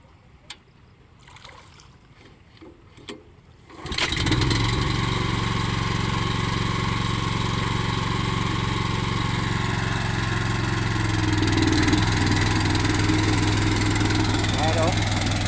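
A 13hp Honda gas engine with a tank-cap problem catches at about four seconds after quiet fumbling, then idles loud and steady with a close, even mechanical drone that keeps going through to the end.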